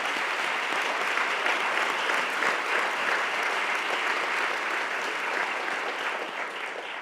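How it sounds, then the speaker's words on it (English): Sustained clapping from an audience honouring STEAM school principals, a broad even wash of applause that fades slightly toward the end. "Let's give them a round of applause."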